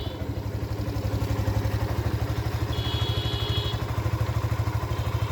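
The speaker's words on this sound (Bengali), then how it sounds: "গাড়িটির ইঞ্জিনের সাউন্ডটি খুবই স্মুথ আছে, নতুন অবস্থায় যেরকম সাউন্ড থাকার কথা সেম ওরকম সাউন্ডে আছে।" A Yamaha FZS V2 FI motorcycle engine idles steadily close by, a smooth, even low putter throughout with a faint brief whine partway through.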